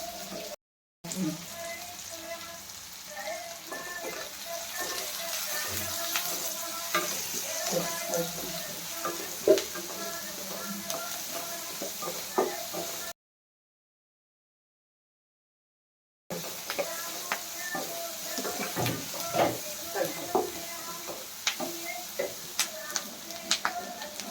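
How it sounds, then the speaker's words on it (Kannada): Coriander leaves frying in hot oil give a steady crackling sizzle with scattered pops and stirring clicks, broken by a short silent gap, while a person talks nearby. "ಎಣ್ಣೆಗೆ ಹುರಿದ್ರೆ ಕೊತ್ತಂಬರಿ ಸೊಪ್ಪು ಚೆನ್ನಾಗಿರುತ್ತೆ"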